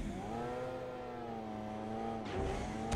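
A car engine revs in the PUBG Mobile game, a steady droning hum that swells briefly before a sharp shift in pitch near the end, alone without talk.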